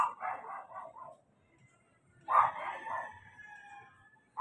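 A dog barks in an outdoor neighborhood of Tondo, Manila, with a short burst of barks, then a pause, then another bark and fainter trailing sounds, moderately distant.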